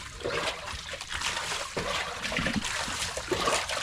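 Rainwater sloshes and trickles as it is scooped out of a boat, with repeated close splashes and dribbles in an uneven rhythm.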